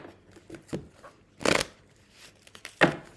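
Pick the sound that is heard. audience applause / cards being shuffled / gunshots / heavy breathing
cards being shuffled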